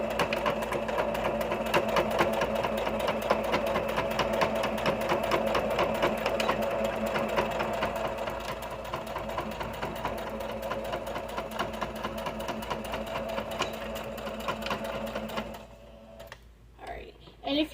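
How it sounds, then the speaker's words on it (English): A sewing machine runs a long, steady line of stitches across the top of fabric for a badge holder, its rapid needle chatter loud and continuous before slowing and stopping near the end. "I'm going to put it in the machine, and sew 1/8 of an inch all the way across the top"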